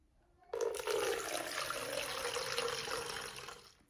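Water poured into a self-watering pot filled with leca clay pebbles, a sudden steady splashing rush that begins after a short quiet start and keeps going evenly at close range.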